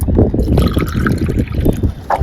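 Water splashes and gurgles steadily as it is poured into a potted mogra plant, close and fairly loud, with a continuous trickling rush.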